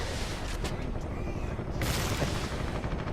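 A plasma cannon fires in Warhammer 40,000: Eternal Crusade, a sudden loud blast cutting through a steady rumble of battlefield noise, followed by sustained heavy crackle.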